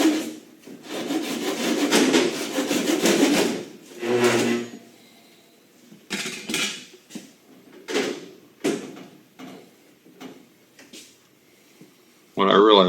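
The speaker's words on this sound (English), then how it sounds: "So I'm cutting through some extra thick bond of fiberglass." Thick fiberglass on a 1976 Trans Am Special Edition nose being cut, with rough rasping strokes in bursts of varying length, some long and some short, separated by pauses.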